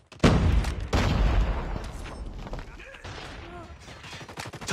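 Call of Duty Mobile gunfire crackles in loud, rapid bursts of shots and booms, easing off toward the end under faint in-game voice cues.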